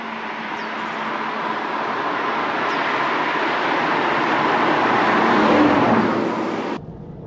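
A naturally aspirated V12 in an Aston Martin DB9 Volante drives under steady, sustained engine drone and road rumble, swelling gradually before dropping off at the end; no talking.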